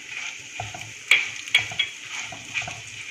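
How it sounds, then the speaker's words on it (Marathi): Cumin seeds and powdered asafoetida sauté in hot oil in a pan, giving a steady close sizzle with a few sharp clicks and taps as they are stirred, no voices. "एक मिनिट असं परतत राहायचं"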